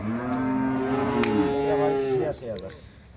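A single long, low moo from a crossbred bull, loud and close, trailing off into quieter rustling at the end.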